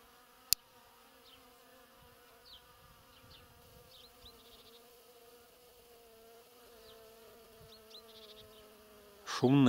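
Bees buzz around a beehive in a steady, faint, continuous hum with occasional closer passes. A sharp click comes early, and a brief voice cuts in at the very end.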